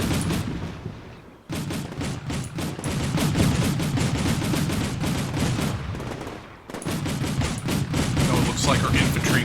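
Infantry gunfire in Combat Mission: Shock Force 2 rattles in dense, continuous bursts of rapid shots, loud and close, with two brief lulls breaking the barrage.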